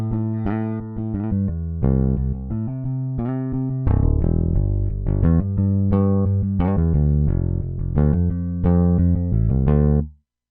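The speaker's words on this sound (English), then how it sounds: "Now, we've very quickly altered this groove to now sound like this." Toontrack EZ Bass Classic Rock EBX bass groove reworked over altered chords, a steady run of punchy plucked bass notes with a rock feel, loud and alone with no talk, stopping cleanly at the end.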